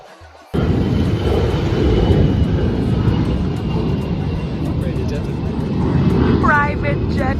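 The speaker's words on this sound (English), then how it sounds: "Private jet, yeah." A private jet flies low over a beach as it comes in to land, its engine roar arriving suddenly and staying loud and close. A high whine rises toward the end, and people are heard faintly in the background.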